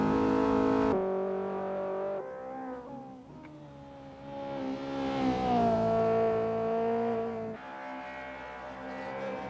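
A Honda S2000 engine in the Touge Battlegrounds racing game rises and falls in pitch as the throttle is feathered, steady and fairly near, with a sharp cut and brief dip before revving on alone.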